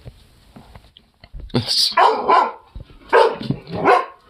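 A dog barks several times in quick, loud pairs close by, with a voice speaking around the barks.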